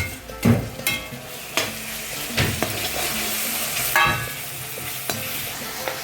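Potatoes and curry leaves go into a hot pan for sabudana khichdi, giving a soft sizzle broken by several sharp stirring scrapes and knocks, close and without talk.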